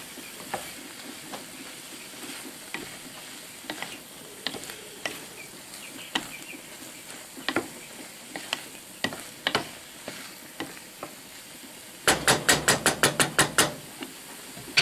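Creamy chicken with dried parsley being stirred in a pan: soft scattered scrapes and taps of a utensil over a low sizzle, then a quick run of sharp clinks near the end.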